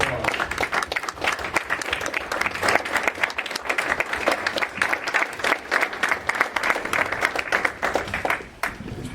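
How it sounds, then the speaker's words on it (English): A town hall crowd held at a VFW hall gives veterans a round of applause, dense, continuous clapping close by that stays loud throughout before fading out at the very end. "Let's give them a round of applause."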